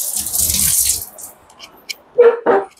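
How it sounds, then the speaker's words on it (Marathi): Water poured into soaked sabudana (sago pearls) gives a brief, close splashing rush at the start, then quieter moments with a couple of short louder knocks near the end. "आणि बेताचं पाणी टाकायचं त्याच्यामध्ये।"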